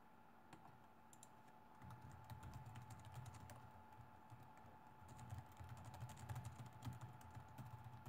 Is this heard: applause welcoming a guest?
no